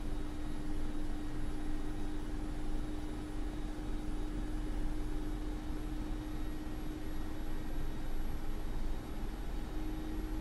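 Mi-24P Hind helicopter in DCS World spooling up and lifting into a hover, a steady loud turbine and rotor roar with a constant high whine holding evenly throughout, no voices.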